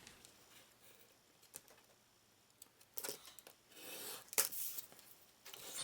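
Craft paper being cut with scissors for a decorated folio, a quiet scraping and snipping that stays faint at first and then grows into louder rasping cuts near the end, with no talking.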